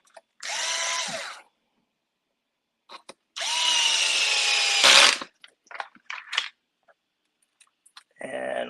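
A power drill drives screws into an RC truggy chassis, an 8IGHT-X 2.0 build, in two sustained whirring bursts followed by short stuttering pulses and clicks, close and fairly loud with quiet gaps between.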